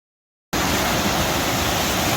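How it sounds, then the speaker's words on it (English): A huge river rapid beside the Appalachian Trail roars in a steady, dense wash of white water that starts abruptly and stays loud and unbroken throughout, with no voices. "this is probably the biggest rapid on trail"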